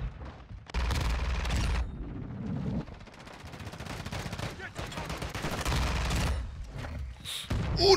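Call of Duty Warzone 2 gunfire comes in loud repeated bursts and rapid automatic volleys with short gaps between them, punctuated by heavier booms.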